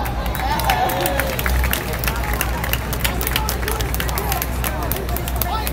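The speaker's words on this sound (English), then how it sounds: "applause." A street-performance crowd in Zuccotti Park, New York City, claps and cheers in a sustained round of applause with outdoor hubbub and low traffic rumble underneath.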